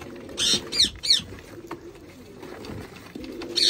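A pair of Shahjahanpuri green pigeons calls in several short bright bursts with soft cooing, over a faint low rustling background.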